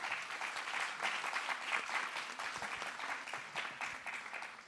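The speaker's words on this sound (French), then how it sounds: "On peut vous applaudir." Audience applause after a speaker at a round-table on volunteering, a steady wash of many hands clapping at moderate distance, fairly quiet and continuous for the whole stretch with no talking over it.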